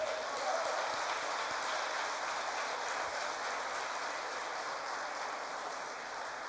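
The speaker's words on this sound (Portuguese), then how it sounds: "Pode aplaudir." Church congregation applauding in a steady, dense wash of clapping that sounds distant and diffuse, like rain, holding evenly throughout.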